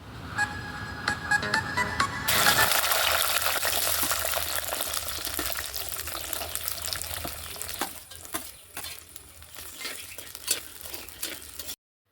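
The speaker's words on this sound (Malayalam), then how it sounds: "അപ്പോൾ ഉള്ളി വാട്ടാൻ പോവാണ് കേട്ടോ" Shallots drop into hot coconut oil in a clay pot: after a quiet start, a sudden loud sizzle bursts up and then settles into continuous frying with stirring scrapes, fading slightly toward the end.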